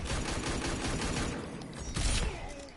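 Rapid gunshots from Deadshot in a fighting video game, a dense burst of loud overlapping shots that thins briefly and then flares again with a final heavy blast.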